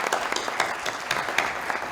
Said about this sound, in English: Please, great applause to the panelists.